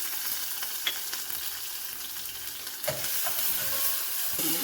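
Curry leaves, asafoetida and green chilies hit hot oil with fried cumin, setting off a loud, steady sizzle with occasional spoon-stirring clinks close by.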